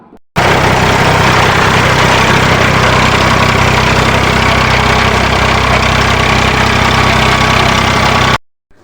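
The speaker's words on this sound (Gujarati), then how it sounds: "હવે મિત્રો, તમને આ ટ્રેક્ટરનો ઓરિજિનલ અવાજ સંભળાવું" A loud Eicher diesel tractor engine idles steadily at close range with a low, knocking rumble. It runs continuously for several seconds, then cuts off.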